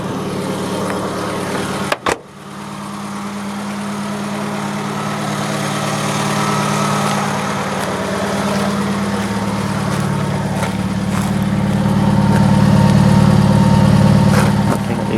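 A small Fiat Cinquecento engine, newly swapped in, cranks and catches with a brief stutter, then settles into a steady, smooth idle that rises slightly later on.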